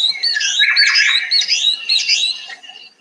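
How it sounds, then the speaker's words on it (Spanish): Recorded bird call from the Ariari region of Colombia, a burst of squawky, somewhat disorganized chirping phrases lasting about three seconds, clear and alone with no talk. "la vocalización del pajarito, un poquito como desorganizada, pero es muy, muy bonita"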